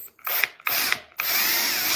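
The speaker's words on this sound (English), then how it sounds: "He seems to be trying to drill into like one of the holes that's already been made." A power drill whirs in short bursts against an object, two brief runs with pauses and then a longer sustained run, loud and close with no talking.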